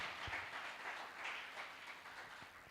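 A church congregation applauding, a fairly faint, continuous patter of many hands clapping that rises and falls gently, with a few louder thumps and no speech.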